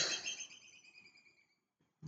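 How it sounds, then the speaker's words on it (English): A bird chirps in a bright, rapid trill up close, fading over about a second and a half into near silence. "You can hear the bird."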